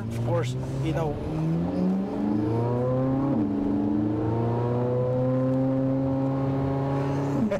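A 2023 Chevrolet Corvette Z06 convertible engine revving at half throttle, a loud, steady rising drone that climbs in pitch and holds high, heard from inside the cabin while someone speaks briefly over it.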